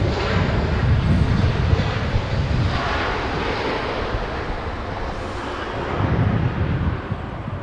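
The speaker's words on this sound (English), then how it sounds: "We just saw Air Tahiti Nui land one Dreamliner" A Boeing Dreamliner of Air Tahiti Nui lands at Los Angeles International Airport, heard from a distance outdoors as a broad, steady jet roar with a low rumble that swells and eases, mixed with wind, and no voices.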